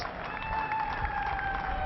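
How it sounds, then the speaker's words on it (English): Distant cricket crowd applause and cheering for a half century, a steady wash of clapping with a sustained tone running through it. "Will be applauded by his teammates"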